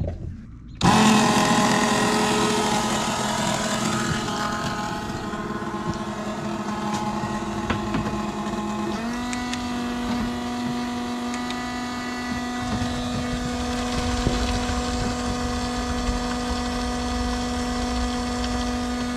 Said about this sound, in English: The pump is rated at 10 gallons a minute.